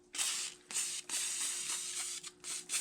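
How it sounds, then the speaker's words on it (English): Silicone spray hissing from an aerosol can into a personal watercraft's engine compartment, close up in several short and longer bursts separated by brief pauses. "I'm just going to lightly start spraying the silicone in"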